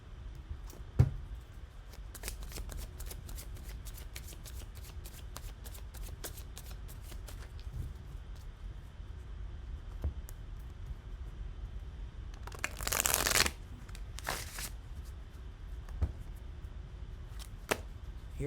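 Tarot cards being riffle shuffled: quiet, rapid papery flutters and taps close by, with one louder burst of riffling near the end.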